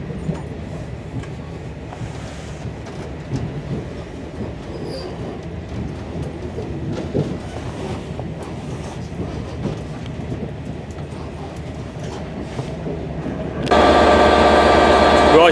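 A Class 150 diesel train bound for Taunton rumbles and clatters past at Cardiff, a steady mid-level running roar with rhythmic wheel clicks, ending in a sudden loud burst of bright engine or horn tone.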